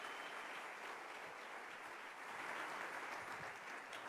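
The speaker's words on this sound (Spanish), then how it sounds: "Denle un aplauso bien fuerte al Rey." A church congregation claps together in a sustained, fairly soft round of applause that swells slightly toward the end, with no voices heard.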